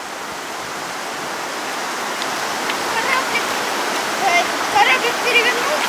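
A mountain river rushes steadily over rocks near the Aishkho pass, making a dense, continuous broadband roar close by. Faint children's voices occasionally rise above the water.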